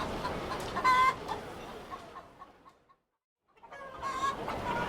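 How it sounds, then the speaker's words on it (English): Wattled farm birds with blue and white feathers cluck and call in bursts nearby, a pause of near silence falling between the two stretches of calling. "Your Midgardian turkeys have different colors, do they not?"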